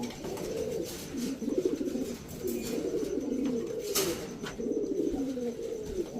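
A pair of Giribaz high-flyer pigeons coo in low, throaty, rolling phrases close by, repeating steadily one after another with brief pauses between.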